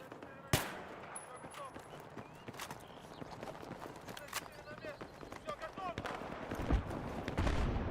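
FAMAS rifle fire in Battlefield 3 on PS3, a loud opening shot followed by scattered fainter bursts and clicks amid a busy battlefield din, with someone talking throughout.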